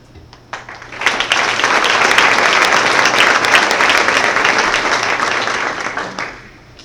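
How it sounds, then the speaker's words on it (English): Loud, sustained applause from an audience honoring star students at a school board meeting, swelling quickly after a few scattered claps and holding steady for about five seconds before tapering off. "You keep clapping, I'll yell."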